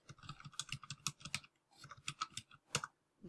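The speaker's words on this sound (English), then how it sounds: "you type that in" Fingers type quickly on a computer keyboard in two close, quiet flurries of crisp key clicks, separated by a short pause.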